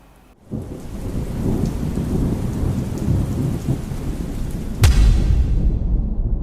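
Heavy rain pours steadily in an audio drama scene, and a sharp, loud thunderclap cracks near the end, followed by a rumble as the downpour continues. No one speaks.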